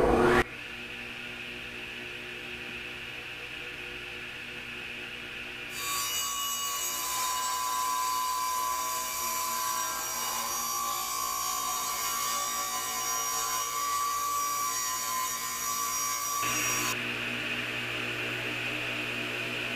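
A power tool cutting wood for the tabletop of a woodworking assembly bench built from a recycled kitchen cabinet, a loud continuous whine and rasp of blade through wood for about eleven seconds after a quieter start, without talk.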